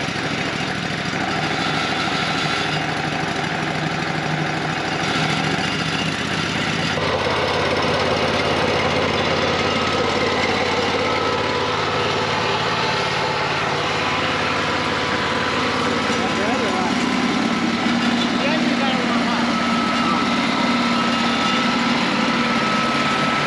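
A small engine idles and warms up while being flushed with water, giving a steady, continuous mechanical drone with a slight shift in tone partway through. It runs alone at an even level, with no talk.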